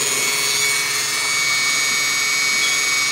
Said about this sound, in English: when I go around it with my Dremel tool with a wire wheel